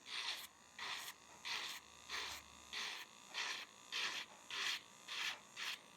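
JD 400 electric nail sander running at 1000–2000 rpm, a faint high-pitched whirring that pulses in regular bursts about twice a second as it works a fingernail.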